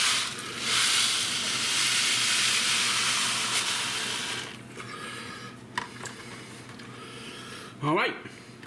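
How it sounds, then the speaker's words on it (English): Chicken pastina soup broth boils in a pot with a broad, steady steamy hiss that fades partway through, followed by quieter bubbling, brief clinks and a person speaking nearby. "when it reaches a boil again, then it will be done"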